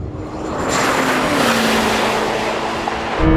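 A Lamborghini Temerario and a Ferrari SF90 in a drag race, a loud continuous engine roar with a rising pitch, swelling again at the very end.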